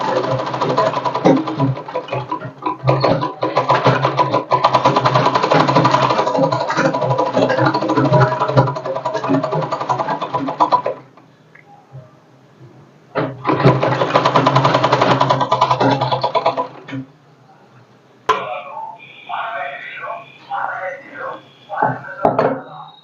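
A home overlock machine stitches the seam of a lined blouse, running in loud buzzing bursts for about ten seconds, pausing, then buzzing again before a voice takes over near the end.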